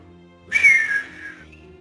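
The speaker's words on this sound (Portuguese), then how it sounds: "Já dou aquele assobião." A loud, clear whistle from one person, a single sustained tone that bends slightly as it holds for about a second, with faint background hum before and after.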